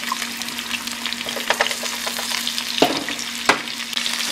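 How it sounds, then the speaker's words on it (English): Chicken sizzles and fries in a pan as it is stirred and turned, a steady close crackle broken by a few sharper scraping knocks from the utensil. "Now, start turning the chicken around."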